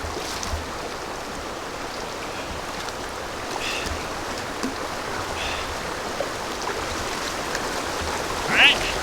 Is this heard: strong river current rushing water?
yes